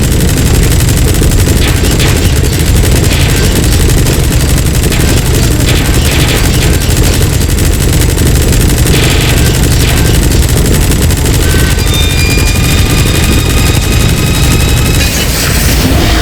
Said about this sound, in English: Use the chopper's minigun. Shoot them all.